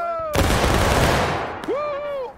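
A massed musket volley erupts in War of Rights, a loud, dense crack that rolls out and decays over about a second, with shouted commands in French before and after it.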